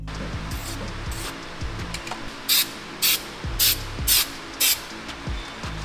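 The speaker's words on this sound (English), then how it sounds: "to prevent any rust in the future, they went ahead and they painted all the exposed metal" Aerosol spray paint is applied to the exposed metal of a BMW E46 M3 in five short, hissing bursts in quick succession, close and loud over a steady musical background.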